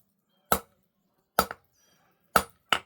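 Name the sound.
hammer striking metal while forging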